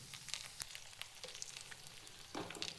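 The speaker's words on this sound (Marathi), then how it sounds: "गुळाचं पाणी यामध्ये टाकायचं आहे." Jaggery water poured into a hot pan of ghee with roasted dry fruits and coconut for wheat lapsi prasad, giving a steady close sizzle with faint stirring scrapes and a louder hiss burst near the end.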